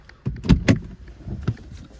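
The panoramic sunroof of a Mercedes-Benz A200d AMG Line tilts and slides, giving a few close mechanical clunks and a soft motor whir inside the car.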